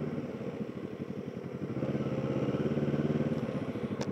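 Motorcycles pass by at a distance, a steady low engine drone with pulsing exhaust that swells slightly before fading, with no talking.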